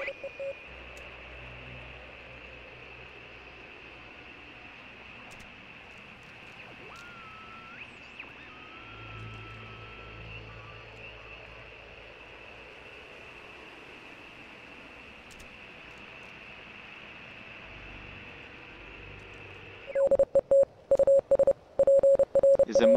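Radio static hisses steadily while a dial is tuned in the video game Oxenfree, with faint warbling tones sweeping up and down through the noise before a burst of harsher, louder crackling near the end.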